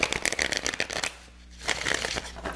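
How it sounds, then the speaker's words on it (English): Tarot cards are shuffled by hand in quick, crisp riffling bursts, close and clear, with a brief pause midway before the shuffling resumes. "As I shuffle, let's go through our disclaimers."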